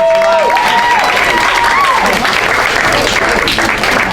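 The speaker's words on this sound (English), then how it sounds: "So I want to give Kelly another big round of applause." A large crowd claps in sustained applause at a mayor's ball, a dense continuous roar with a few faint cheers and voices mixed in.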